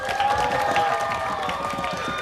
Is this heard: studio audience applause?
yes